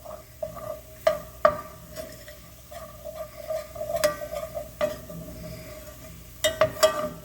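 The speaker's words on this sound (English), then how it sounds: "with the roux, you do want to stir because you want to move it around" A spoon stirs flour roux in a pot for chicken gumbo, with steady scraping and a faint sizzle broken by sharper clinks against the pot, close and alone.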